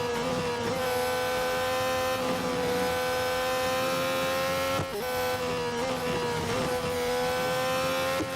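A race car engine in Real Racing 3 whines at high revs while overtaking a back marker, a steady buzzing tone with brief gear-shift dips and a quick cut near the middle, no talk.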